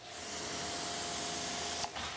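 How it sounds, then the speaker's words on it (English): Gyeon WetCoat spray-and-rinse sealant being sprayed onto a car, a steady close hiss of spray lasting about two seconds before cutting off abruptly. "when I'm basically spraying this way"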